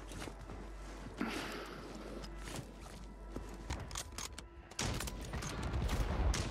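Faint, distant gunfire crackles on Call of Duty's Rebirth Island, a few sharp shots standing out against a low, busy background of movement and rumble.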